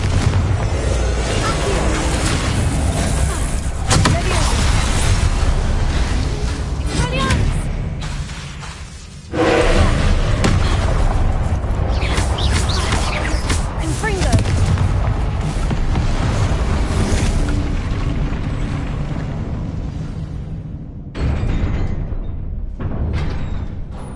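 Loud booming blasts of the Confringo fire spell in Hogwarts Legacy, heavy explosive bursts with rumbling tails that nearly fill the stretch, a brief drop in the middle before they resume, mixed with game sound.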